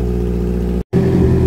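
A motorcycle fitted with a black RC canister exhaust revs, giving a loud, steady, low engine drone close by that cuts out for a split second and then returns.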